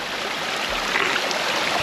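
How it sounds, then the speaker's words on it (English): Cold spring water flowing steadily from a hillside spring in a watercress-filled stream, a continuous close rushing trickle with no talk. "the source of this spring is about 100 yards up this hill, and this constantly runs."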